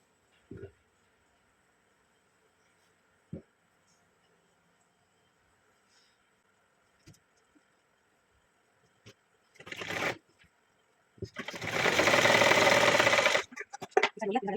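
Sparse clicks and taps give way to a sewing machine stitching a salwar: a dense, fast mechanical whirring run of about two and a half seconds, fairly close, followed by a few quick knocks.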